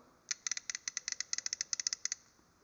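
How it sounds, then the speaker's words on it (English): A Capri half-inch drive flex head ratchet clicks in a quick, steady run of sharp metallic ticks, close and loud with nothing else heard. "Let's see what the Capri sounds like."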